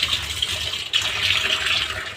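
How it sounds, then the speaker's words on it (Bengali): Pointed gourds are rinsed under a running kitchen tap, a steady close hiss of flowing water with slight splashing changes throughout. "ভালো করে পটলগুলো ধুয়ে নেবো।"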